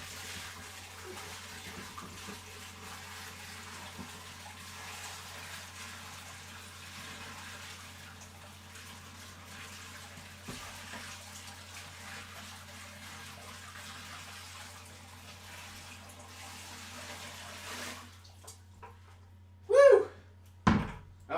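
Five gallons of water emptied into a 40-gallon fish tank, a long soft continuous pouring rush that stops abruptly near the end, followed by a few louder knocks and thuds.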